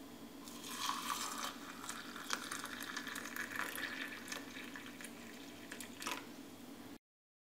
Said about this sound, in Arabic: ثم سنصب الماء الساخن.